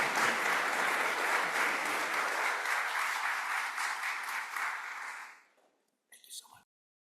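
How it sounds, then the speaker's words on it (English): Audience applause for panelists at an immigration law symposium: dense, steady clapping from a crowd lasting about five seconds before fading out, followed by a brief faint sound. "please give a warm applause to our wonderful panelists"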